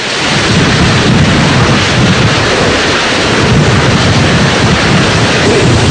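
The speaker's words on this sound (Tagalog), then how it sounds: "Nakakapangilabot ang kambal na puwersa ng hangin at ulan." Loud, relentless typhoon roar of howling wind and heavy driving rain from Super Typhoon Yolanda in the Philippines, a dense continuous wash of noise with deep rumbling underneath.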